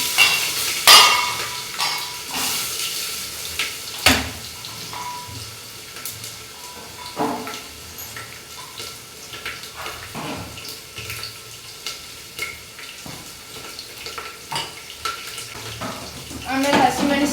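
Potatoes, peanuts and mustard seeds sizzle in a pan for a Kannada home lunch, with sharp crackles, splashes and stirring scrapes at irregular intervals over a quiet kitchen background.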